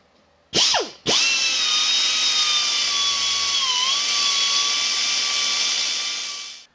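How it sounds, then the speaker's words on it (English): A high-pitched Dremel rotary tool whines steadily after a brief start-stop, grinding a metal tabbed washer for a Honda CB750 continuously for several seconds before winding down. "I was able to use a Dremel tool and this little chainsaw sharpening guy to get in there"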